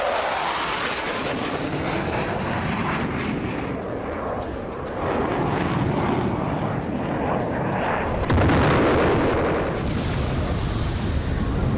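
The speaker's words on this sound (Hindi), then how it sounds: "यूक्रेन पर रूस लड़ाकू विमान से बम बरसा रहा है।" Russian fighter jets bomb Ukraine. A roaring aircraft drone runs throughout, overlaid with rumbling explosions and sharp blasts, and grows louder and more intense toward the end.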